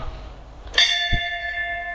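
A temple bell in a newly built village temple rings once, a sudden clear metallic strike that hangs on with a long fading ring.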